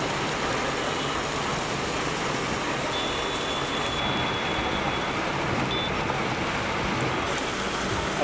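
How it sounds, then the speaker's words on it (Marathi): Steady, dense rain falls continuously on surfaces outdoors in Parbhani, Maharashtra, a broad even hiss with no voices and a faint distant engine hum underneath. "परभणीत देखील पाऊस पडत असल्याचं पाहायला मिळतंय"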